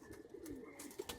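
Pigeons kept by a flyer and breeder coo softly in a loft, with a couple of low rolling coos rising above a steady murmur of background noise, close by and alone without talk.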